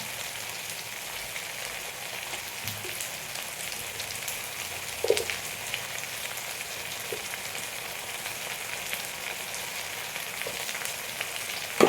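Turmeric and spices sizzling in hot oil for mango pachadi, a steady soft frying hiss with a few faint clinks of a stirring spoon, moderately close and without talking.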